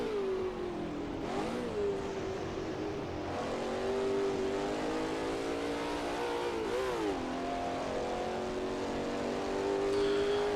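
A modded racing car engine in Assetto Corsa revs steadily and loudly with no break, its pitch climbing and dipping through repeated surges as it accelerates.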